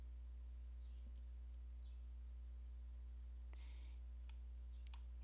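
A few sparse, faint computer mouse clicks, quick isolated ticks spread over a few seconds above a steady low electrical hum, with no talking.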